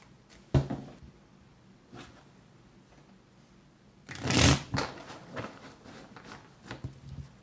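Tarot cards riffled and shuffled by hand, a few soft isolated flicks followed by a denser burst of card riffling, close and fairly quiet with no talking.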